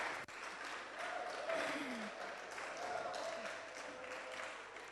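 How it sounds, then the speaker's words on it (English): A distant, steady round of audience clapping from a youth election dialogue crowd runs throughout, even and moderately faint, with a few faint tonal murmurs over it. "Keep the clap coming, okay?"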